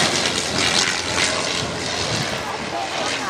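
A Fokker Dr.1 triplane with a rotary engine flying past, its uncowled exhaust giving a steady, broad roaring drone that holds loud and even throughout.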